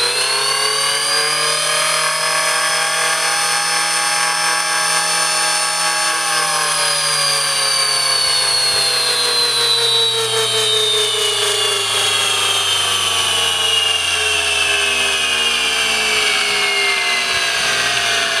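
A brushless RC car motor runs on a MiniPro dyno, a loud steady high-pitched whine whose tone climbs and then slowly drops across the run, with no talk.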